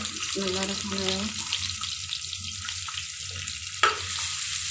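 Bottle gourd skin sizzles in a pan on a home kitchen stove, a steady bright frying hiss punctuated by spatula scrapes and a sharp clatter near the end, with faint voices in the background.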